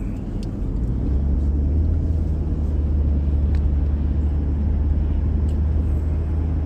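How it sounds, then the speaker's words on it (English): Heavy road traffic streams across a California overpass on a soggy, wet day, a steady low rumble of many vehicles heard from nearby, continuous and loud with a few faint higher clicks on top. "Look at the overpass. Look at all that traffic."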